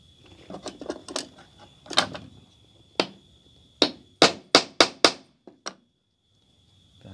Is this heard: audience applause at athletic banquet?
no